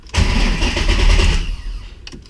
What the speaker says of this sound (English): I'm gonna crank it for a second and see what happens